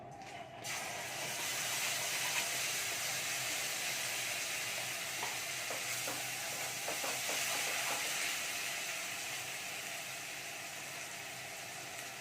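Ground spice paste of coriander powder and chili powder sizzles steadily in a hot pan for a potato and cauliflower curry, a constant loud hiss broken midway by a cluster of light scraping clicks.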